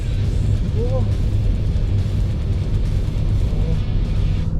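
A Kia Niro Hybrid on the move gives a steady low engine and road rumble. The cabin noise holds constant throughout while someone talks over it.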